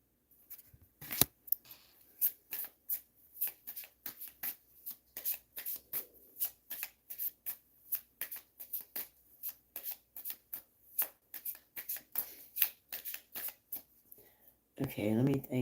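A tarot card deck is cut and shuffled by hand, producing a long run of sharp, rhythmic card flicks and riffles up close, with a brief burst of voice at the very end.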